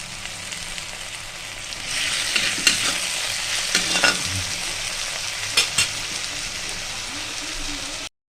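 Chopped tomato hits hot oil in a pan and sizzles loudly, the crackle swelling as it goes in and continuing steadily with a few stirring scrapes and clinks, no talk.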